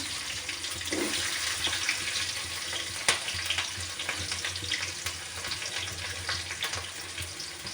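Onions tossed into hot oil fry with a loud, constant hiss and crackle, with scattered pops and a sharp clack partway through.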